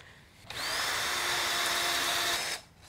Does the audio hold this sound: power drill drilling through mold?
yes